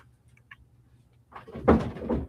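A house door opening to let a dog in, with a faint knock early on followed by a louder scrape and thump of the door swinging.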